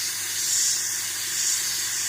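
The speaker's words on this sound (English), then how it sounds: "What you don't want to be doing is like spraying it on thick" A spray gun lays paint on thickly over a model, giving a steady, close, unbroken hiss that swells slightly in the middle and holds for about two seconds with no voices.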